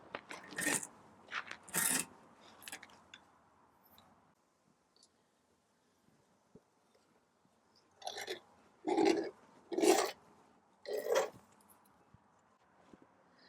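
Pieces being pulled out of a patio screen frame give irregular scraping and crunching bursts, close and moderately loud, in two clusters separated by a quiet stretch.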